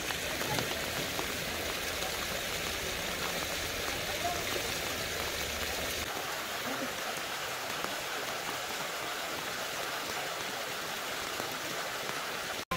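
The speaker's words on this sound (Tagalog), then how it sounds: "Bingwit sa ulan." Steady rain falling during an outdoor fishing outing at a garden spot, a dense constant hiss of drops on surfaces throughout, with no clear talk over it.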